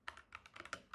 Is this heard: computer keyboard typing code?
yes